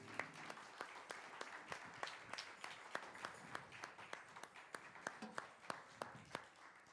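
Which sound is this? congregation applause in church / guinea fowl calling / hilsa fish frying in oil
congregation applause in church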